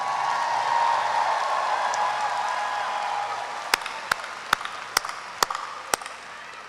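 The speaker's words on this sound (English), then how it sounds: "Can we give them a round of applause?" A large audience applauds at a university commencement ceremony, with broad, sustained clapping and crowd noise that gradually fades, followed by a few sharp, isolated handclaps near the end.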